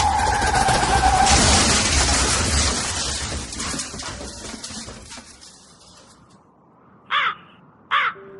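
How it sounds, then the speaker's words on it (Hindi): A car skids out of control toward a tree with a loud tire squeal and engine roar that fade away, followed by two sharp, close crow caws in the quiet afterward. "गाड़ी पता नहीं कैसे कब बेकाबू होकर एक बड़े से पेड़ से टकराई।"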